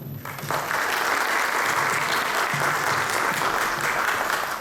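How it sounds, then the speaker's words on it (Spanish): Audience applause welcoming Dr. Mónica Mesa, director general of DIGER, at the opening of a government training programme; steady, dense clapping from a full room that swells in quickly and holds evenly throughout. "vamos a recibir con fuertes aplausos a la doctora Mónica Mesa"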